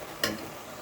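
Spinach with added salt is stirred in a hot pan, making one quick scrape over a soft background sizzle.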